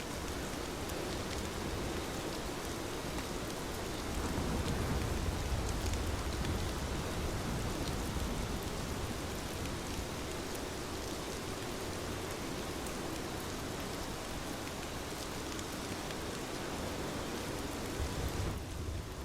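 Rain pours down steadily in a dense, even hiss that swells slightly for a moment, then holds constant with no talk.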